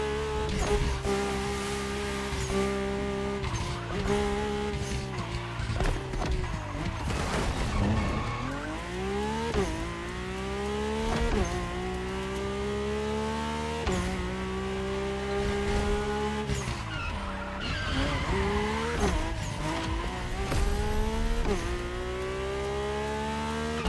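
A Mercedes-AMG One hypercar in The Crew Motorfest racing game screams through repeated rising gear pulls and sharp shifts, with loud sustained engine revs and bursts of tire squeal throughout.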